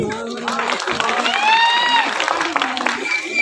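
Applause and cheering from an audience at a Sambalpuri comedy stage show during a Ganesh Puja program, a steady broad wash of clapping throughout with voices and tonal music threading over it.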